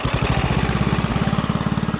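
Small engine on an old Craftsman wood chipper under restoration sputtering into life, a close, loud, rapid chugging pulse that runs evenly for a couple of seconds.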